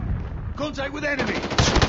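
Video game gunfire: rapid automatic bursts crackle in close, growing denser and louder toward the end over a steady background mix.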